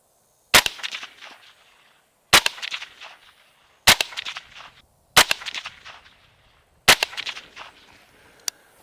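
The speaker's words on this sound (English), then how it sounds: "I'm shooting offhand, and we're going to see how we do." Five suppressed 5.56 shots from a Sig MCX Virtus rifle fitted with a SilencerCo Omega, fired offhand at 100 yards, each a sharp loud crack with a short ringing tail, coming at uneven intervals of about one to two seconds.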